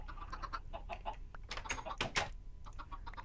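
Chickens clucking in the Minecraft video game, a quick series of short, soft clucks at close range with a louder burst near the middle, amid light background noise.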